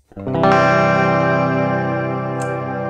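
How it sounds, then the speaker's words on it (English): A guitar chord sustained through an Endorphin.es Ghost pedal in hall reverb mode with freeze engaged, holding a dense, steady wash that swells in quickly and stays nearly constant, loud and alone. "Now if I'm in hall reverb mode, the tap button is a freeze."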